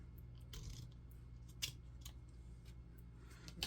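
Scissors snip through printed paper for a handmade journal cover, giving a few quiet, crisp cuts with small rustles between them, close up and without talk.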